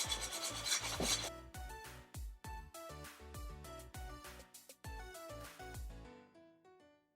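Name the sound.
scrubbing burnt stains off a pan with baking soda and vinegar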